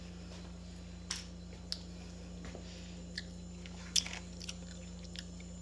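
Pineapple sour belt candy being bitten and chewed close by, with a few soft, sparse crunchy clicks and squishes over a steady low hum, and no talking.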